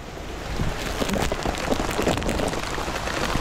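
Rain pours down outdoors in Cappadocia, a dense, steady patter of drops striking nearby surfaces, loud and continuous with no voices.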